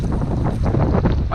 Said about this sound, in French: Normalement vous allez entendre là le vent